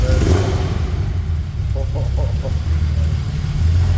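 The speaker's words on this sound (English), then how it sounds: "I want to hear the sound from the exhaust." A VR6 car engine rumbles loudly at idle through its exhaust, with a few brief revs blipping up in the middle before settling back to a deep idle.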